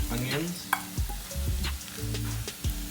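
Mushrooms fry with garlic and onions in a pan, a continuous soft sizzle broken by the scrape and knock of a spatula stirring, close up with no voices.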